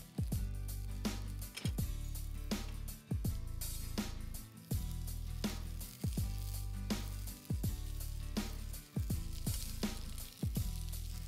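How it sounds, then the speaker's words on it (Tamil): Peeled small onions frying in hot oil in a pan for Madurai kara chutney, a steady loud sizzle broken by repeated rhythmic scraping and stirring strokes. "அந்த சின்ன வெங்காயத்தை இதில் போடுங்க. போட்டு இதை நல்லா ரோஸ்ட் பண்ணுங்க"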